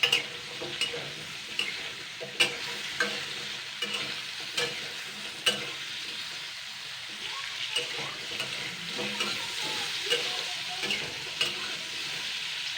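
Cut, washed sweet pumpkin fries in a pan with a continuous close sizzle, dotted with sharp ticks and occasional spatula scrapes against the metal.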